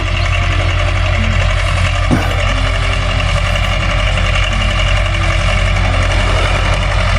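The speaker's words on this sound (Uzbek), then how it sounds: "Hozir mana traktor kelyapti, egishni boshladi." A heavy tractor engine idles steadily and close by throughout, a low continuous rumble with a brief knock near the middle.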